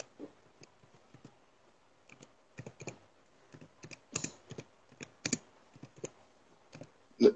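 Keys tapped on a computer keyboard during a Gabonese quiz show, a string of irregular close clicks in short bursts with quiet gaps between, and no voices.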